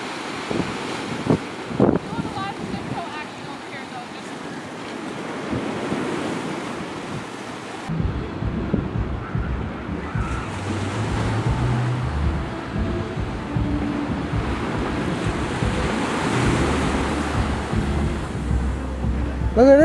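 Ocean surf on the Jersey Shore at Asbury Beach, waves rushing and breaking close by with heavy wind buffeting the microphone and a brief loud thump partway through.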